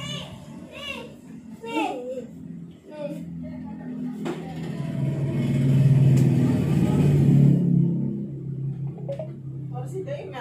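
A motorbike engine revs up and swells for a few seconds, mid-distance, beneath the chatter of children and adults talking nearby.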